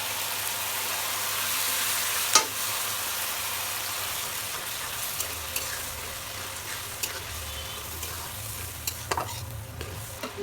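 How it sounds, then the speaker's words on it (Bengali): Mung dal tipped into fried spices sizzles and crackles steadily in the pan while a spoon stirs it, with a few sharp clinks of utensil on metal over a constant frying hiss. "আমি এবার ঢেলে দেবো ডাউল।"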